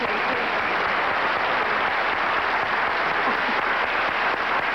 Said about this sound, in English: Let's applaud the fall, please.